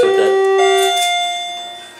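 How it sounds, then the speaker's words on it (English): Down chime of a Schindler hydraulic elevator at a Carson's store in Yorktown Center, two clear doorbell-like electronic tones, the second ringing on and fading out, close and alone. "Except the down chime, it sounds like a doorbell."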